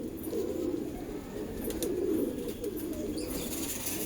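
Pigeons kept by a breeder cooing in low, soft, continuous murmurs, with faint flutters and chirps in the background.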